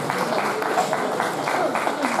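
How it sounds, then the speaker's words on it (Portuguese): Audience applause for a folk group at the 4th folk festival in Beco, Santo Aleixo: sustained clapping from the crowd, heard under someone speaking over a microphone. "mais uma salva de palmas para eles"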